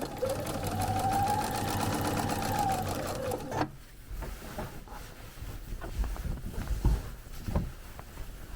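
A sewing machine runs steadily for about three and a half seconds stitching chenille fabric, its fast motor whir close and loud, then stops and leaves quiet handling noises and light thumps.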